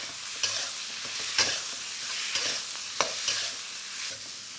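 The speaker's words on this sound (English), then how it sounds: "So the pork belly's been seared nicely. Just get that into those onions" Seared pork belly being stirred into caramelised onions in a pan, soft sizzling broken by several sharp spoon scrapes and clacks at an uneven pace, close and without speech.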